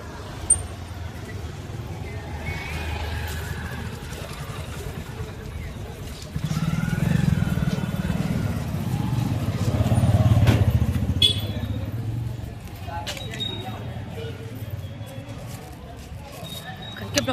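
Motorbikes passing along a busy street, engine rumble swelling and fading as they go by amid general traffic noise, a louder pass in the middle, with voices talking over it.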